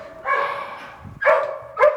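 A dog barks in a kennel, giving three sharp barks with a pause after the first, close and loud with no talk over them.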